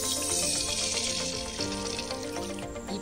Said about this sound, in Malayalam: ഇതിന് നമ്മൾ വെള്ളം ചേർത്ത് കൊടുക്കാം.